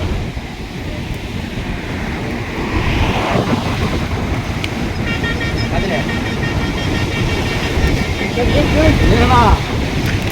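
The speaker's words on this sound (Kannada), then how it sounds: "ನೀರು ಡ್ಯಾಮಿಂದ ಕೆಳಗಡೆ ಬೀಳ್ತಾ ಇದೆ" Water gushing from the broken gate 19 of the Tungabhadra dam, a continuous heavy roar mixed with wind buffeting, with a person talking over it throughout.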